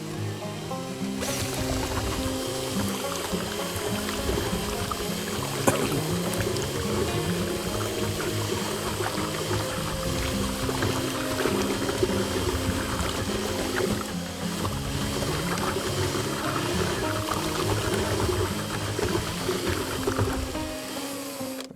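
A drill mixer stirs gypsum plaster and water in equal parts for casting 3D wall panels, a steady close motor whir with wet churning and sloshing that runs unbroken for over twenty seconds.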